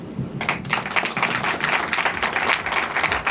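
A crowd at a boutique ribbon-cutting ceremony breaks into applause, a dense, fairly close run of many hands clapping that starts after a brief lull and carries on steadily, with no talk over it.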